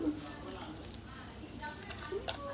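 Cumin and mustard seeds sizzle steadily in hot oil in a pan for tempering, a continuous close frying hiss with faint crackles while a voice talks over it.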